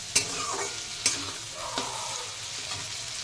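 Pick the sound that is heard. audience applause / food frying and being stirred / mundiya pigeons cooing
food frying and being stirred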